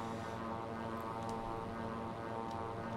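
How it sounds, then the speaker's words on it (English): Rotax engine of a SeaRay seaplane in Microsoft Flight Simulator, a steady, high-pitched, scratchy propeller drone held at constant loudness throughout with no talking. "Engine sounds very high-pitched and scratchy, but that is also very Rotax-y"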